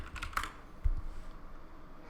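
Computer keyboard typing: a short burst of quick key taps, fairly close, with a slightly heavier keystroke near the end against light room noise, no voices.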